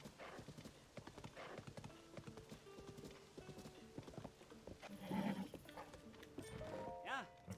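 A horse in Breath of the Wild, heard as quiet game sounds of hooves clip-clopping in an uneven rhythm, with a whinny near the end, while a person talks over it.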